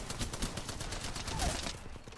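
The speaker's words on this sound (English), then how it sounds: "Why does the rockets keep hitting me?" Rapid volleys of rocket and gunfire impacts pound a player in the battle royale game Apex Legends, a dense steady barrage of bursts running throughout before easing off.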